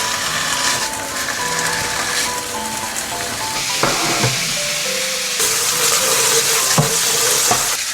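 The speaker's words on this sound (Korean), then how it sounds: "일단 프라이팬에 항정살 먼저 올려놓을게요" Pork jowl (hangjeongsal) sizzling in a frying pan, a steady crackling hiss close by with occasional clicks and scrapes of a utensil against the pan.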